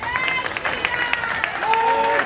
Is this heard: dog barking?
no